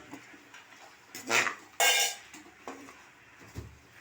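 Duck curry sautéed in a pressure cooker pot, stirred with a utensil: a few sharp metallic scrapes and clanks against the pot, spaced irregularly over a quiet background.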